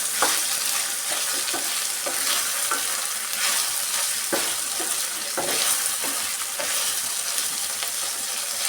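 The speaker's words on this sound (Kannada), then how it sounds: "ಎಣ್ಣೆಯಲ್ಲಿ ಈರುಳ್ಳಿ ಜೊತೆ ಫ್ರೈ ಮಾಡ್ಕೊಳ್ಳೋಣ" Onion and vegetables frying in oil for onion thokku, a steady loud sizzle throughout with frequent clicks of a spatula stirring against the pan and no voices.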